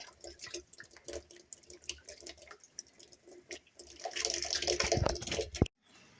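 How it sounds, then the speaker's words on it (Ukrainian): Water poured by hand to top up a household water supply at a village house under renovation, with trickling, dripping splashes that swell into a louder, steady pour before stopping abruptly. "Ось так поповнюємо запаси"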